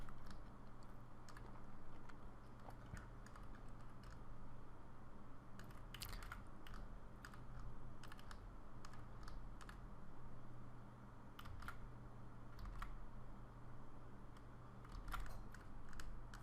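Mouse clicks during 3D editing in Maya: a series of quick, faint double clicks repeating at an irregular pace over a steady low hum, with no voices.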